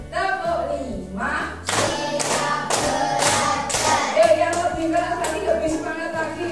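Rhythmic group clapping from a counting clap game: a run of crisp, fairly loud clap bursts in a regular pattern, mixed with ongoing talking voices throughout.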